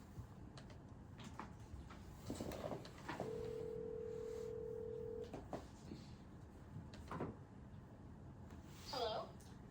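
Telephone call tones for a phone interview: a steady two-second tone sounds amid clicks and handling noise, with soft talk around it and a brief electronic chirp near the end.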